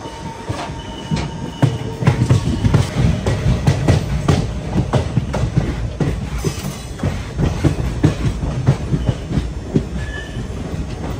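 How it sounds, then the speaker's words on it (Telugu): Parasuram Express passenger train cruising on rails between Kottayam and Ernakulam Town in Kerala, with steady rumble, rhythmic clickety-clack of wheels over joints and occasional wheel squeal, heard loud and continuous from inside a coach. "మన ట్రైన్ క్రూజింగ్ స్పీడ్ ప్రస్తుతం అయితే ఎలా ఉంది"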